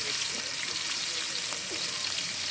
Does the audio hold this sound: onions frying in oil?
yes